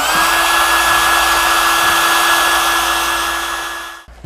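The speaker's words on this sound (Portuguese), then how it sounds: "Então nós vamos pegar o secador." A hair dryer blows steadily at close range, drying a glitter craft piece on glass, its whining motor hum holding constant before winding down and cutting off near the end.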